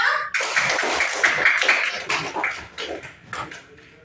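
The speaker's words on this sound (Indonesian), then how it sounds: "Tepuk tangan dulu buat kelompok 3" A classroom of students claps for a presenting group: loose, uneven hand claps close by, bursting in abruptly and thinning out toward the end.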